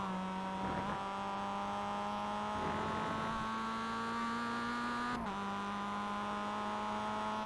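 A Mazda MX-5 in the iRacing game at Lime Rock Park, its engine note rising steadily under throttle with a couple of brief dips from gear changes, loud and continuous throughout.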